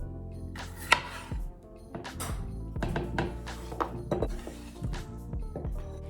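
A knife cuts through small baby potatoes on a cutting board, giving a series of close, crisp thunks against the board at an uneven pace with a clink or two in between.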